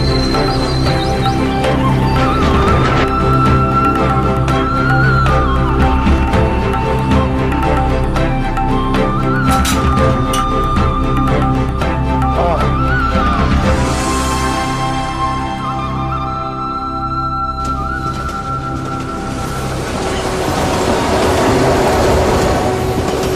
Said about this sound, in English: Another train leaves the station